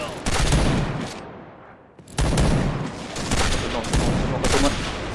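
Heavy sniper rifle shots, likely from the Tactilite T2 Shinobi, ring out in the Point Blank sniper mode. Three loud, well-separated blasts each strike sharply and leave a long fading tail.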